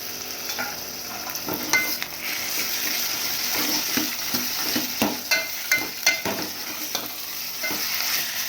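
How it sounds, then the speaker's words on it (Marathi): Marinated mutton being stirred into browned onions in a hot pan for spicy mutton sukka, with steady sizzling frying and repeated scraping stir strokes and clinks of a spoon against the pan, close and fairly loud, no talking. "आपला कांदा लालसर झालेला आहे आता आपण याच्यामध्ये हे मॅरिनेट केलेलं मटण टाकून घ्यायचं आहे"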